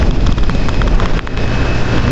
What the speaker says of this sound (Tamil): இந்த மறுபடியும் இங்கே மழை அடிக்குதுப்பா